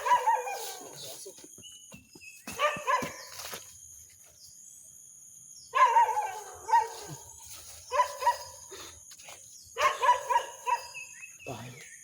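Dog barks in short bursts of several yaps, repeating across the stretch at moderate distance, with insects chirring steadily in the outdoor background.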